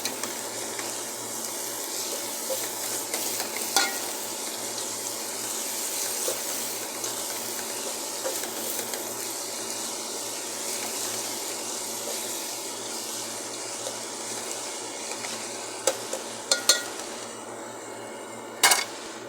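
Tomatoes with salt frying in a pan give a steady, close hiss of sizzling oil, with a few faint scrapes of stirring near the end.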